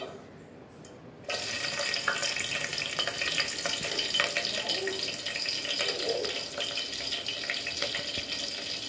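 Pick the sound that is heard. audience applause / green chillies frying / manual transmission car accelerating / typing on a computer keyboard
green chillies frying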